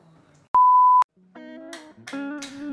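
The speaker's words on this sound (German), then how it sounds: "Nach dem Piepston geht's weiter." One steady, loud electronic beep tone lasts about half a second on a bathroom tiling job site, with music-like sounds before and after it.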